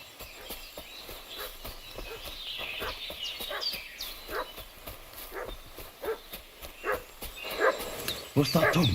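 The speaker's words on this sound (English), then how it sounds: "What's that dog making such a fuss about?" A dog barks repeatedly in a medieval village in Kingdom Come: Deliverance II, a run of sharp yaps growing louder and more frantic toward the end, with birdsong and voices around it.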